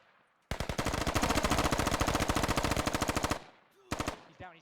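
Sustained automatic gunfire in the military shooter game Squad, a long rapid burst of loud shots followed after a brief pause by a shorter second burst.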